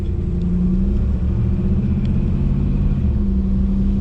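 A car engine rumbles steadily at close range, revving and pulling through a gear change with a low, continuous drone.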